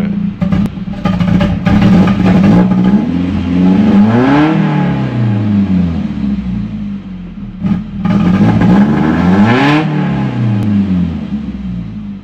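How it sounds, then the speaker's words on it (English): A Nissan 240SX (S13) with a brake booster vacuum leak revs hard twice, its engine note climbing and falling in two loud close bursts, with pops and crackles as the revs drop. "She's popping, but backfiring"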